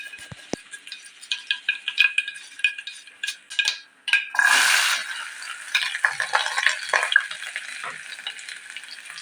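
Mustard seeds crackle and pop in hot oil in a home kitchen in Palakkad, with a burst of loud sizzling midway and scattered clinks of a utensil against the pan, close and with no talk.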